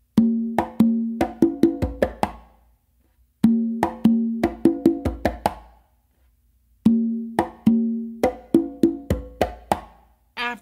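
Conga plays a full Georgie Padilla tumbao pattern in three repeated phrases of quick bass, slap and ringing open tones, clear and close, with short silences between phrases.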